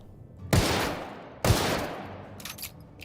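Explosive-round gunfire from a weapon in The Outer Worlds, with two loud, close blasts about a second apart, each trailing off into a long rumbling decay, followed by faint crackling at the end.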